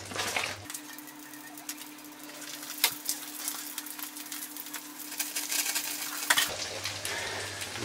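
Fish frying in butter alongside cauliflower in a pan, a steady close sizzle with occasional stirring clicks and scrapes running throughout.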